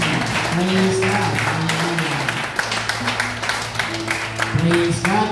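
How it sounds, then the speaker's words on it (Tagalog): Applause at a church prayer meeting in Antipolo, a crowd clapping steadily beneath a speaking voice and background music. "Yung buhay na palakpak sa ating Panginoon."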